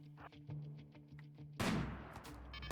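Rotary turrets open fire during a raid in the video game Rimworld, a sudden loud burst of dense, continuous gunfire that cuts in partway through after quieter rhythmic game sounds.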